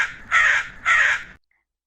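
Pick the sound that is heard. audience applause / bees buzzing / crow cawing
crow cawing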